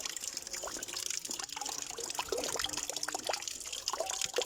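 Water splashes and trickles as it is poured into a mix of brown sugar and baking soda, a faint, busy stream of drips and gurgles with no speech.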